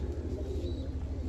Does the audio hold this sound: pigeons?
yes